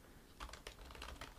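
A brief burst of soft typing on a computer keyboard, several quick, close clicks in an uneven rhythm over a quiet background.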